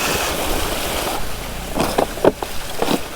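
Steady broadband water splashing and rushing while a motorbike is washed outdoors with water from a container, with a few sharper sloshes and pours near the end.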